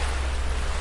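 Gentle ocean waves wash on a beach in a steady, dense hiss with a low rumble beneath, continuous and evenly loud with no distinct breaks or voices.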